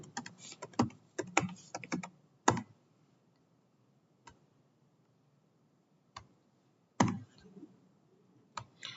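Someone types on a computer keyboard while filling in a hospital registration form. Crisp key clicks come in quick clusters, then scattered single taps with quiet gaps, all close and fairly soft.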